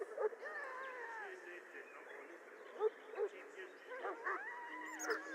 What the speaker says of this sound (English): You're quite lucky to have your own Mabari warhound, you know.